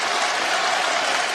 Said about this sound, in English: Again, a standing ovation from the crowd